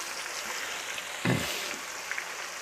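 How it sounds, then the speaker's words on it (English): Potatoes cut for fries fry in hot oil, a steady close sizzle with a brief louder burst of crackling partway through. "And then we're gonna let them fry."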